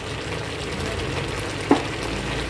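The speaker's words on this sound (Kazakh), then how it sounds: "Содан кейін барып, қуырылып атқан жуаның үстіне саламыз." Chopped onion frying in a pan for a winter beet salad gives a steady, close sizzle throughout, with one brief sharp clink partway through.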